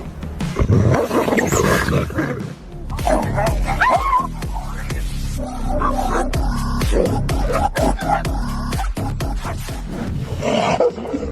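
A Tibetan mastiff growling and barking protectively over an old wolf, with deep, loud, close snarls, roaring growls and sharp barks in irregular bursts, some overlapping sounds from other animals.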